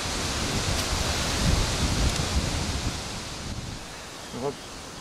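Strong wind buffets the microphone in a steady broadband roar on a shoreline while perch fishing, with gusts swelling and easing throughout; a brief voice sound appears near the end.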